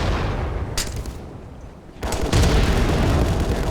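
A grenade blast in a VR shooter match between Strive and CAT Alpha Squad booms loudly amid continuous gunfire and game noise, with a heavier burst of sound near the end.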